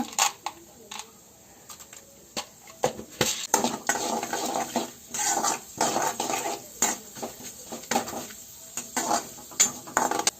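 Chana dal tipped into a pan as the tempering for rava idli, giving a steady run of close clattering, rattling and scraping as the lentils hit the metal and are stirred, with no talk.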